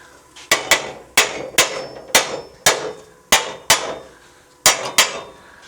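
A hammer taps on a steel 4-link frame bracket for a Jeep Cherokee XJ, striking about a dozen sharp metallic blows in an uneven rhythm, sometimes doubled, loud and close with no talk.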